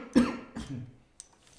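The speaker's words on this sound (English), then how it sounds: "I have to cough and drink water." A single adult cough close to the microphone, a sharp burst followed by a second, weaker hack, then near silence and a small click; indoors, no speech.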